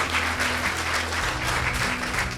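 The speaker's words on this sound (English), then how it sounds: "So this deserves a big applause." Audience applause at the closing of a Black Sea stakeholder conference, a sustained burst of steady clapping from a crowd filling the room, loud and unbroken with no voices over it.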